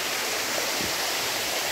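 A waterfall at Cherrapunji, Meghalaya, heard as a steady broadband rush of falling water, fairly distant and unbroken.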